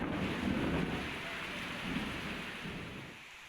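Heavy rain pours steadily in Banjarmasin, a dense, constant hiss with low rumbling and wind gusts, gradually easing slightly toward the end.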